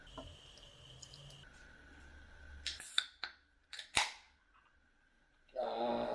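Close clicks and a sharp pop with a hiss as a can of Vietnamese Ba Ba Ba beer is opened, followed by fizzing bubbles.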